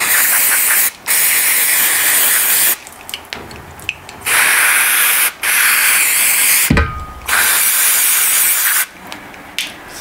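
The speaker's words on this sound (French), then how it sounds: "Nettoyant carburateur. Ah si, ça me fait penser à l'éther." An aerosol can of carburetor cleaner sprays in long, loud hissing bursts with short silent gaps between them, used while working on a Yamaha motorcycle that cuts out at 110 km/h. One brief thud falls mid-way.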